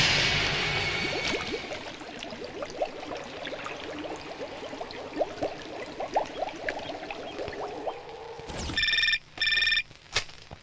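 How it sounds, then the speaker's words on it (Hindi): A telephone rings in a Hindi action film scene, with two bright electronic ring bursts cutting in near the end after a stretch of busy, rustling background sound. "Sir phone."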